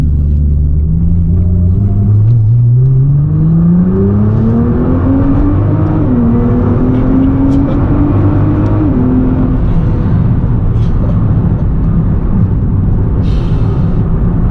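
Nissan GT-R Nismo engine accelerating loud and close, a deep droning roar rising in pitch through the gears with short dips at shifts, then settling into a steady heavy rumble.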